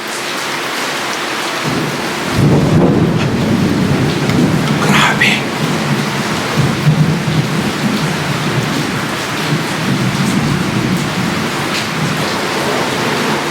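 Heavy rain pouring steadily with a rumble of thunder rolling in early, loud and close, the downpour building and staying dense throughout.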